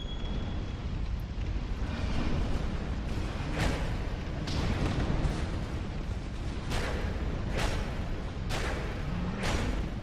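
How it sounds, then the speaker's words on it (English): Self-destructing crawlers in the video game Dark Souls 2 blow up in a series of about six muffled, booming blasts spaced a second or two apart, over a constant low rumbling background. "If you do get clocked by an explosion, then you're gonna hurt quite a bit."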